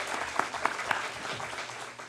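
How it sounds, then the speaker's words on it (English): People at a county commission meeting give brief, scattered applause, a few sharp louder claps standing out at the start before the sound tapers off over a couple of seconds. "so let's give him a round of applause."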